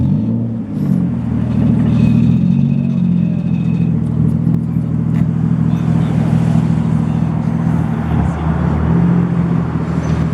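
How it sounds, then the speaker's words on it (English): A Toyota JZX100 car pulls in with a loud, steady low engine rumble that stays close and continuous, rising slightly near the middle, with no clear talk. "check out this JZX 100 pulling in right here"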